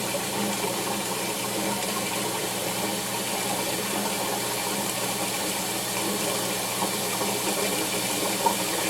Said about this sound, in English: And now we'll let the pot refill.